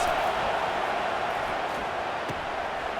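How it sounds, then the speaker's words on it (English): A packed college football stadium crowd, the Missouri Tigers home fans facing the Arkansas Razorbacks on third down, gives off a loud, sustained roar that holds steady and dense from start to finish. "Listen to this crowd just shaking the girders of this place trying to help their defense."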